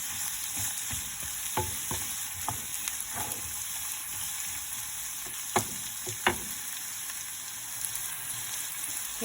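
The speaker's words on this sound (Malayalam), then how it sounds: "എടുത്ത് വെച്ച ക്യാപ്സിക്കം ഇടും അതിനകത്തേക്ക്. ഇത് നമ്മൾ ചെറുതായിട്ടൊന്ന് ഇങ്ങനെ വഴറ്റി കൊടുക്കും" Capsicum sautéing in a pan, a continuous bright sizzle with scattered scraping stirs and a couple of louder clacks of the spoon against the pan.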